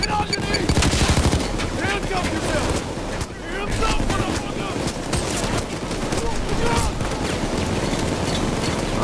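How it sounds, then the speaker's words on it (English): Dense, rapid gunfire in the video game Payday 2 crackles nonstop in loud bursts, layered with rumbling noise and a voice speaking over the din. "A lot of gunfire around here, isn't it?"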